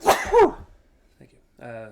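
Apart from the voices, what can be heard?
sneeze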